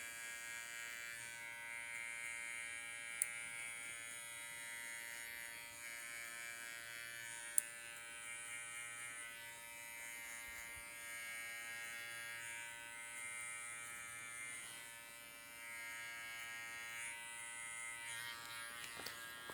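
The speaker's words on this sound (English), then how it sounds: "Really using the toe and the heel of my clipper." Electric hair clippers buzz steadily and close up while cutting a taper haircut, a continuous hum with faint variations as the blade works the hair, punctuated by a couple of brief sharp clicks.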